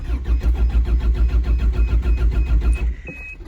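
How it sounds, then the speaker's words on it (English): Four-cylinder Plymouth Fury car engine cold starting: a loud, close, rapid rhythmic cranking chug that runs for nearly three seconds and then cuts out, leaving a faint high whine. "we're gonna have a cold start and a burnout in the same video"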